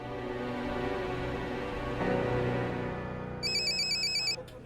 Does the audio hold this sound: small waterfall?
no